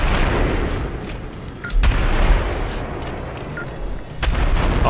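Gunshots in the shooter game Syndicate (2012), a few heavy booming shots with sharp cracks standing out over continuous rumbling battle noise.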